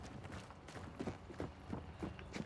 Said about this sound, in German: Pferd.